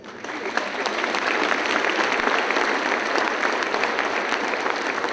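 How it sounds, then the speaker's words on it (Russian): Dense, steady applause from a concert audience at a jubilee concert in a Moscow-region cultural hall, a thick wash of many hands clapping at even loudness for about five seconds without a break. "Аплодируйте."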